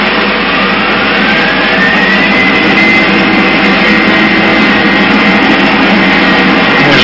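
Boeing 737-800 flight simulator engines spooling up to full takeoff power, a loud steady broadband roar with a faint rising whine, continuous and close throughout.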